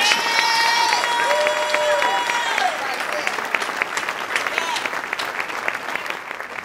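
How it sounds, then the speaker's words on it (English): A church congregation claps hands in praise, a dense sustained wash of applause with shouting and cheering voices mixed in, steady and loud before thinning slightly toward the end. "Let's clap our hands and let's give God some praise."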